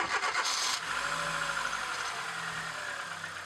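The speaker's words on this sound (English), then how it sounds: "Start the engine" A car engine is cranked and catches, followed by a steady mid-pitched idle that settles over a few seconds, heard close and alone without talk.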